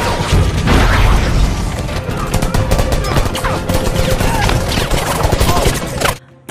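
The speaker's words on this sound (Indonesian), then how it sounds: "tembakan beruntun tentara terus menjedar-jedor" Dense, rapid bursts of gunfire rattle on continuously for several seconds, loud and close, with booming impacts, before cutting off abruptly near the end.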